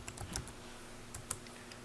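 Light keystrokes on a computer keyboard, a few quick taps clustered near the start and another short burst later, close and fairly quiet over a faint steady hum.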